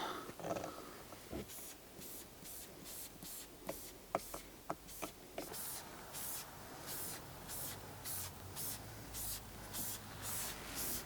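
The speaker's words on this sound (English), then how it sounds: "There's a bit over there I could do with spraying as well." Repeated short hissing bursts from a spray bottle applying LanoGuard coating to a Land Rover Discovery 3, a quick cluster of squirts followed by a steady run of evenly spaced sprays, close and fairly loud.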